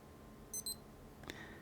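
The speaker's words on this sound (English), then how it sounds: "till you hear the beep tones, and then it freezes." Casio G-Shock DW-6700 Sky Force II digital watch (module 1230) giving short electronic beep tones, two quick high chirps followed by a brief tone, quiet and close with no talking.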